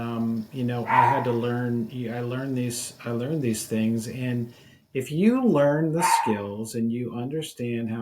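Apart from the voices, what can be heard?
dog barking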